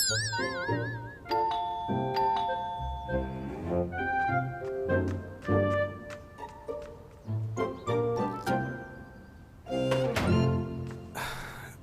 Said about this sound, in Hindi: दरवाजे की जो घंटी है बहुत देर से बज रही है।